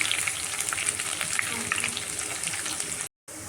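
Curry leaves, a red chili, chopped green chili and garlic hit hot oil for a dal tadka, giving a loud, dense, continuous sizzle up close that cuts out for a moment near the end.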